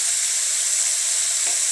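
Minced garlic sizzles steadily in a hot pan as it is stirred in, a continuous close frying hiss with one brief scrape of the spoon near the end and no talking.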